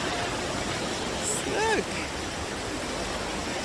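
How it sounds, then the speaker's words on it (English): A fast-flowing river in Switzerland rushes as a steady, broad wash of water noise throughout, with a person speaking briefly over it. "But this looks like fast flowing river."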